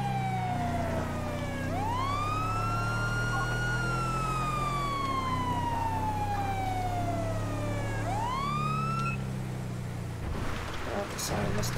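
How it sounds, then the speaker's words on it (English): A police car siren in GTA 5, wailing in long rising and falling sweeps over a low engine drone, steady and prominent throughout, with brief noisy rustling near the end. "the siren must come"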